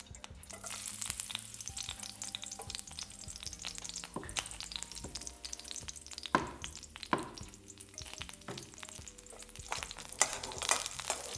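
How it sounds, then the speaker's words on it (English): Garlic fries in a couple of tablespoons of oil in a pan for restaurant-style bhindi bhajee, a steady close sizzle with occasional louder crackles and utensil scrapes throughout, no voices. "Just want the garlic to cook a bit"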